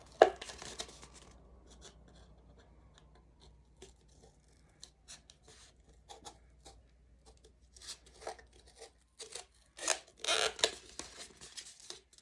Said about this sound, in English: And you take a small pair of scissors and you bend these out and then cut them off.